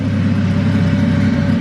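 Honda Civic D16Z6 single-cam engine with a Brian Crower Stage 2 cam, tuned for E85 flex fuel, idling loud and close with a steady, slightly lumpy low rumble.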